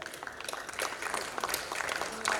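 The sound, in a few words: audience applause at a seminar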